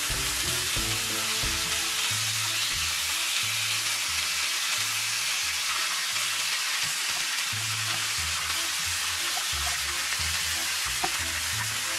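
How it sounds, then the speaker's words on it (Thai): Sausages sizzle and crackle steadily in a hot frying pan, a close continuous hiss with occasional low clinks of stirring. "ไส้กรอกของเรานะคะก็ย่างกับกระทะเลยนะ"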